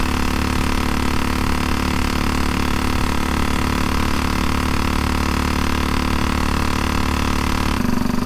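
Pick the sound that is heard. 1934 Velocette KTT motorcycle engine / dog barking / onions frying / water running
1934 Velocette KTT motorcycle engine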